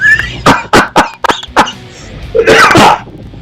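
A driver on the road lets out a series of sharp coughs and throat-clearing bursts, about five quick hacks in a row followed by a rougher, louder fit, close and alone with no talk.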